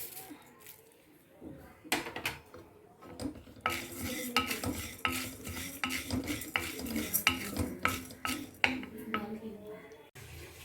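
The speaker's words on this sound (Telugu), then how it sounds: "ఇవి కూడా వేగాక ధనియాలు వేసేయండి" Dry spices, coriander seeds among them, being roasted for a peanut chili powder and stirred in a pan with a utensil, giving repeated scraping and rattling strokes that come close and fairly loud in irregular bursts.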